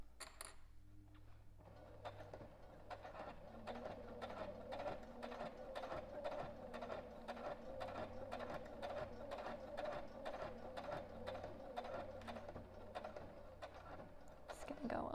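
A sewing machine stitches a fabric jewelry pouch in a steady, rapid run of even stitch pulses lasting most of the stretch, fairly close and moderately loud, with a quiet voice speaking over the start.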